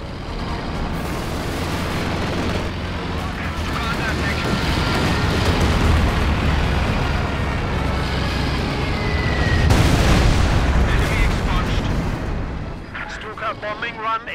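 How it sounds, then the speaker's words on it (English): Continuous heavy booms and rumbling explosions from a Stuka dive bomber bombing run in Company of Heroes 2 with a Luftwaffe mod, building to a loud peak near the end of the run, with battlefield noise layered throughout. "Stuka will bomb the target."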